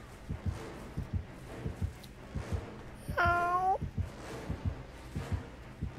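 Cat meowing in a Dead by Daylight gameplay session, a single clear, drawn-out meow at mid-loudness rising above a steady rhythmic thumping background.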